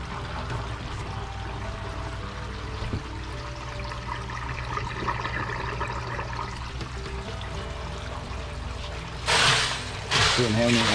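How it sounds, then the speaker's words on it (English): Steady rushing water flows continuously through the second barrel of a three-barrel koi pond filter, a constant churning wash, ending with a few louder splashing bursts. "now the water is running through with barrel number two now."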